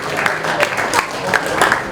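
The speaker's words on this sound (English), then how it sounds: "Give him a big round of applause, ladies and gentlemen, as you come to the front." Brief burst of crowd applause at a speedway team press and practice day on the Isle of Wight, scattered clapping that is fairly close and lively, with some voices mixed in.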